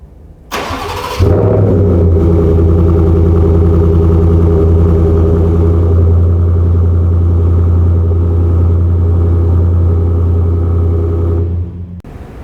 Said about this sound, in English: start the Roush Offroad truck first so you can hear the exhaust note with that Roush Offroad exhaust system